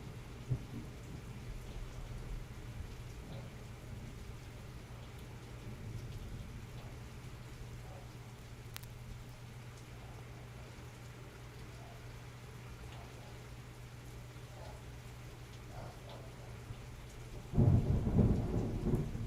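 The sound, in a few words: loud thunder and rain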